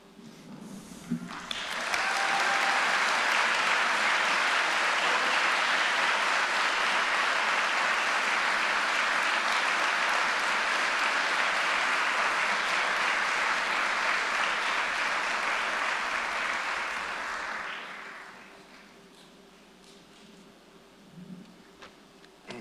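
A fire recruit academy graduation audience claps for the training officers in a long, steady ovation that swells quickly, holds loud and even for about fifteen seconds, then fades into quiet room noise with a few faint sounds.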